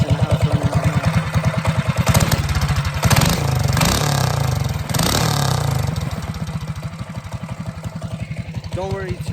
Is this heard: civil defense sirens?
no